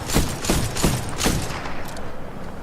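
Bolt-action rifle shots from the video game Titanfall 2 fire about four times at a steady pace. Each loud crack is followed by mechanical bolt clicks, and a lighter rattle runs on afterward.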